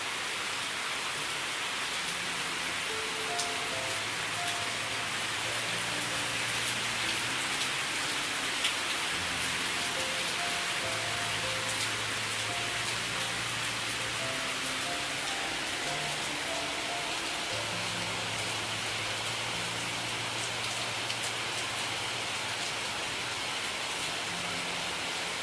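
Steady rain falls outdoors in a dense, even hiss of drops on surfaces, continuous and close throughout, with faint low tones drifting underneath and no talking.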